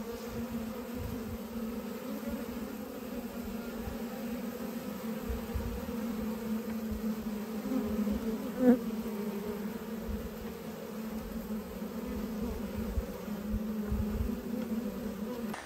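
Many honey bees buzz steadily around a hive in a continuous hum, close and moderately loud, with no talking.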